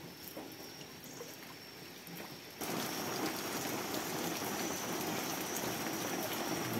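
Heavy rain pours over a flooding village house in Indonesia, a steady broadband hiss that abruptly swells louder partway through and then stays dense and constant.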